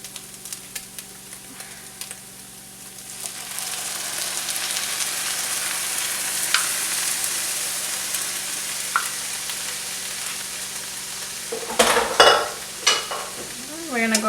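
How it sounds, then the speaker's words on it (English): Egg pieces in chile sauce stirred in a hot pan, a steady close sizzle with scraping strokes building over time and a few sharper clatters of the utensil near the end. "We're gonna go ahead and stir it, stir it, stir it, stir it."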